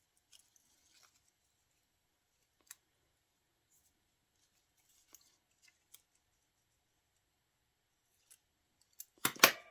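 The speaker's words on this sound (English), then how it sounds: "I'm just going to trim her foot a little bit more." Scissors trim a paper cutout for a collage: a few faint, sparse snips in a quiet room, then a louder cluster of cuts close by at the end.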